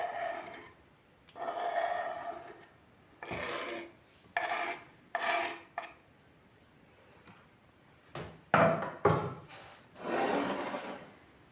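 Crab stick salad with chopped boiled eggs and pickled corn stirred in a bowl: a series of rasping, scraping bursts, some longer strokes and some quick short ones, close by with pauses between.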